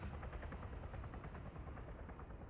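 Helicopter flying overhead in the Warlords Redux video game, a steady, fairly quiet rotor chop with rhythmic thumping that continues without a break.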